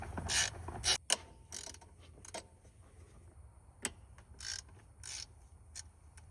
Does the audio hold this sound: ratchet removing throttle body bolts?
yes